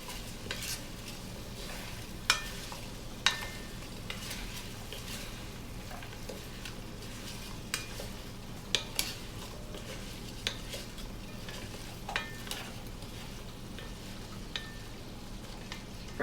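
A spoon stirs salt, black pepper and cilantro into a pot of creamy butternut squash soup with a low, steady wet swirl, broken by occasional faint clinks of utensil on the pot.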